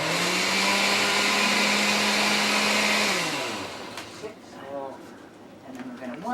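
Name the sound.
hand-cranked blender running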